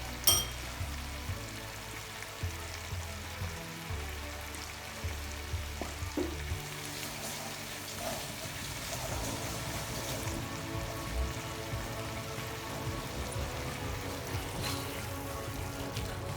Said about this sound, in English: I'm just going to gently stir that in and let it simmer for about 5 minutes